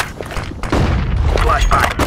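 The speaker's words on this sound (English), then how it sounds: "Throwing flashbang." A flashbang grenade goes off in CS:GO, a heavy boom amid loud game sounds and gunfire, with players talking over it.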